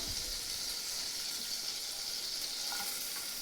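Finely chopped garlic and ginger fry in melted butter with half a spoon of oil, producing a dense, continuous sizzle up close, with faint stirring scrapes near the end and no talking.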